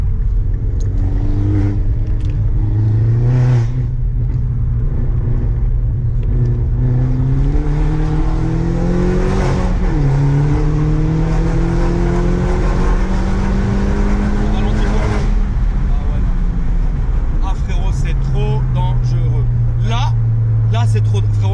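A sports car's engine revs and drones loudly with screaming exhaust valves, the pitch climbing and falling through several pulls, while people talk excitedly over it throughout.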